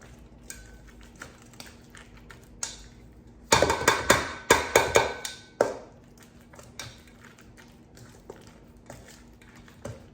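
Garlic-salted stuffing ingredients being mixed and beaten in a bowl for stuffed chicken: a short burst of quick, clattering utensil strikes against the bowl, fairly close, between quieter stretches of faint kitchen noise.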